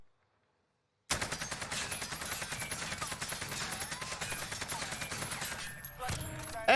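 Sustained automatic rifle fire in Warzone, a full 45-round magazine emptied in one unbroken burst of rapid shots for about five seconds, loud and close, ending abruptly after silence at the start.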